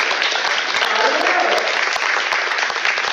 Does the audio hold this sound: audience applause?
yes